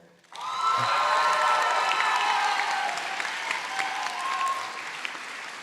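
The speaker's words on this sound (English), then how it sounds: "So I want to give a round of applause to her." Commencement audience at the 2023 UCR School of Medicine ceremony bursts into loud sustained applause after a brief pause, with whoops and cheers scattered through the clapping, slowly easing but still strong at the end.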